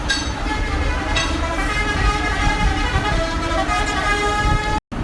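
An idling K2 Tours bus engine rumbles steadily at a booking office in Rawalpindi, with a horn tooting briefly near the start amid continuous traffic noise.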